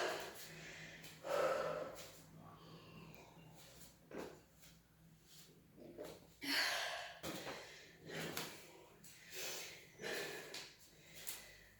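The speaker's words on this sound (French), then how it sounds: "On inspire, on expire." Heavy, rhythmic breaths during a short rest in a cardio training session, with deep inhales and forceful exhales in close, repeated bursts and a few snort-like gasps.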